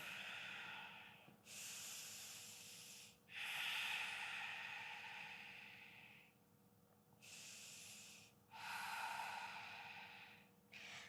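Slow, deep breaths during a calm yoga flow, long airy inhales and exhales alternating in a steady rhythm, close and breathy with no talk over them.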